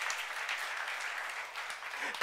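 A church youth-service congregation claps in a steady, moderately loud patter after the sermon, and a loud voice cuts in at the very end.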